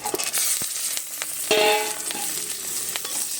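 Chopped garlic and radhuni seeds sizzle in the oil left from frying fish, with steady frying hiss and a few scraping stirs of a spatula close by.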